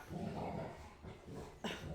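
Several dogs bark and whimper at close range in short irregular bursts, with one sharp yelp near the end, against a quiet room background.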